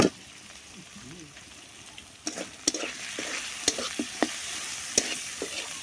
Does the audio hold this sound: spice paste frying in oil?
yes